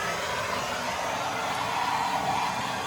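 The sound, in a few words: torch heating a stuck bolt on a motorcycle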